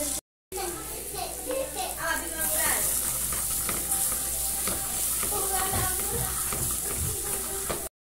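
Garlic, bell pepper and tomato pasta seasoning sizzles and fries loudly in a pan, steady crackling throughout with stirring, while someone talks and a voice is heard in the background.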